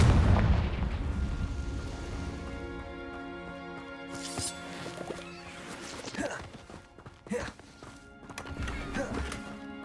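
In the game Hogwarts Legacy, Confringo fire spells blast in a series of booming impacts, a big initial burst followed by sharper crackling hits and rumbles spread over several seconds.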